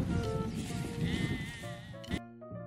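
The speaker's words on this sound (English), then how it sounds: "Goat." A goat bleats close by, one long wavering cry followed by a shorter, clearer bleat, heard alone.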